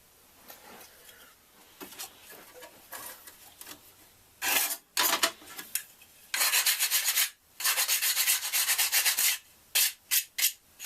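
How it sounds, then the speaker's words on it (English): Sandpaper scrubs a model airplane canopy part for a Ziroli AT-6 Texan, with quiet light rubbing at first, then loud bursts of back-and-forth sanding strokes broken by brief pauses. "We'll clean that up with a little bit of sandpaper"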